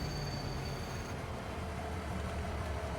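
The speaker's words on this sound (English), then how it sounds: "the train showed up" A train rumbles steadily through a Farming Simulator 25 scene, a continuous mid-distance drone of rolling rail noise with a faint whistle-like tone fading early on.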